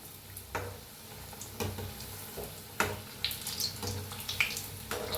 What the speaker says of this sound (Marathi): तेल बघा आपलं चांगलं तापलंय, आपण भजी सोडून घेऊया